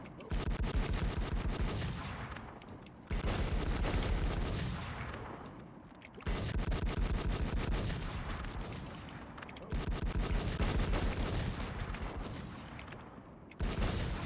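Heavy automatic gunfire in the video game Fantasy NewWorld, loud dense bursts lasting about three seconds each, separated by brief pauses, repeating four times with no talk.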